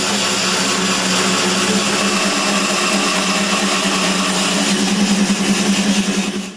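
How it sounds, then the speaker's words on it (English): A bandsaw cutting corner angles on a wooden frame, a loud, steady motor whine with blade noise that holds constant and swells slightly near the end, no voices. "With the bandsaw, he made the angles on the corners of the frame."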